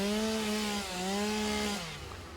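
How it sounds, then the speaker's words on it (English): A chainsaw in the video game Satisfactory cuts through mycelia plants in a cave, giving a steady droning whine that dips briefly midway and then fades out near the end. "let's grab our chainsaw"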